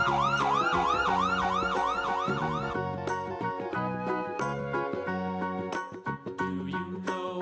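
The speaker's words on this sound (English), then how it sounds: "Police car. Police car." A toy police car siren wails in a fast, looping up-and-down pattern, then gives way to bright chiming, tinkling music and drum hits.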